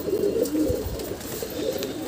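Pigeons cooing on a city rooftop where birds are bred, low soft coos rising now and then over a steady outdoor background.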